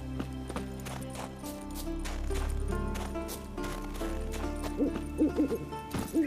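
Horse hooves clip-clop steadily in The Witcher 3: Wild Hunt, a quiet regular beat of hoof strikes with a few louder sounds toward the end and no talking.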